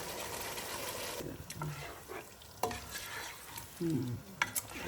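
Chicken going into a hot pan of oil with a dish of ginger chicken, sizzling steadily while a spoon stirs and scrapes in short bursts, close and fairly loud, with a few metal knocks.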